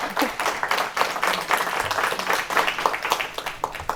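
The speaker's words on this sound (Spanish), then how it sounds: "aplauso." An audience at a talk on care work in Navarra breaks into applause, a dense, fairly loud clapping from many people that carries on evenly with small swells, with some speech mixed in.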